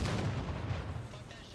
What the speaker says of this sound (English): Rockets going in.